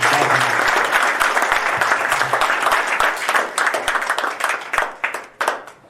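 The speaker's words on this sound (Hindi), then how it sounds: "तो सबसे पहले जोरदार तालियां बजेंगी आप" Audience at a motivational success seminar bursts into loud, dense applause that holds steady, then thins into scattered individual claps as it dies away.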